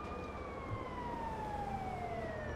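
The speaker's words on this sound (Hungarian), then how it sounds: "Már jön a mentő." An ambulance siren in a GTA video game wails steadily and faintly from a distance, its tone gliding slowly downward as it moves away over a low background rumble.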